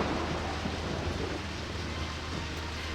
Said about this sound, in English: a fucking thunderstorm is just pissing down all over everything